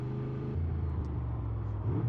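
A Honda VFR750 motorcycle engine runs and revs on a narrow country lane, a steady close mechanical drone with a slight rise in pitch, alone without talk.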